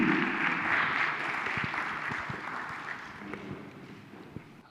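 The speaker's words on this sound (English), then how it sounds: "A big round of applause to all our next panelists" Sustained applause from an audience at an IDFR 2022 observance event in Accra, a steady wash of clapping that slowly fades over a few seconds, with no speech over it.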